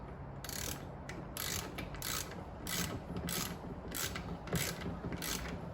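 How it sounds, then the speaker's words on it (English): Torque wrench ratcheting while tightening a bolt, a series of rapid clicking bursts in a regular back-and-forth rhythm, close and crisp over a faint steady background. "Of course we'll torque it."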